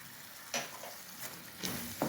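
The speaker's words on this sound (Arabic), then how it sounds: "صافي بعد ما درتها على النار كتشحر مزيان" A savory pastry filling mixture is stirred in a pan on the stove, with a few scraping stirs and a soft, steady sizzle underneath.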